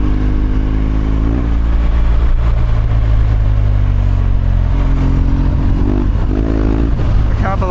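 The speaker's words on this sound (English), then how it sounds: "Even though it sounds like a tractor, it's a really fun motor" A BMW R1200GS Adventure motorcycle engine revs hard and continuously off-road, its throttle rising and falling in rough, loud, tractor-like bursts close by.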